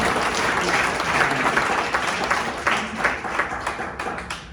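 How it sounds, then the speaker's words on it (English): A crowd at a meeting breaks into sustained applause, dense and fairly loud, thinning slightly toward the end with individual claps standing out. "I wish there was no applause"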